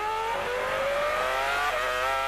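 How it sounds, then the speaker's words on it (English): A 2002 Formula One car at the European Grand Prix practice accelerates hard out of a hairpin, its high-pitched engine note climbing steadily with a stuttering traction-control edge, loud and close throughout. "You could really hear the traction control working out of that new hairpin into the Mercedes Arena"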